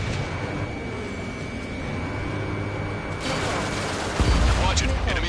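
Missiles fire and explode in the Ace Combat 7 flight combat game, with a dull rumbling engine bed, then a sudden heavy boom near the end. A game voice speaks over the action.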